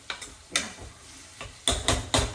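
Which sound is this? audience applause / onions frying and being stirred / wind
onions frying and being stirred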